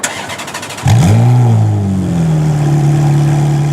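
A Ferrari F430 Challenge race car engine cranks briefly, then fires with a loud bark and rev before dropping into a steady, deep, rumbling idle, close and loud.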